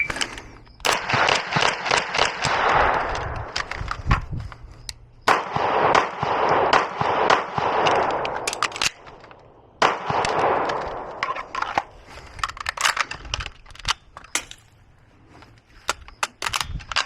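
Rifle shots at an outdoor shooting range, sharp cracks firing in rapid clusters with brief gaps between strings, loud and close, alongside scattered sharper snaps.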